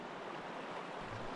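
Knee-high, fast-flowing river water rushes during a van-life river crossing in New Zealand, a dense, steady hiss and churn close to the microphone with no voices.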